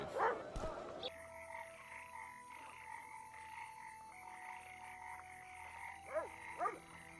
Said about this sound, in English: The frogs, how quiet everything is.